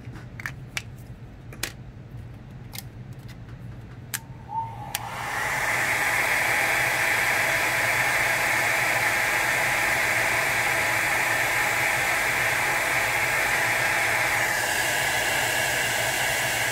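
Hair dryer blowing over alcohol ink artwork to dry it between colours, a loud steady whoosh that switches on after a few faint clicks and taps, then runs continuously and close, dipping slightly toward the end.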